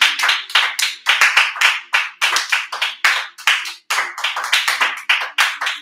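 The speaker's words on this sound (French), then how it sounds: "Et nous allons acclamer notre Seigneur Jésus" A church congregation claps rhythmically and loudly to acclaim Jesus, a steady run of bright, quick hand claps in a repeating beat with no voices over it.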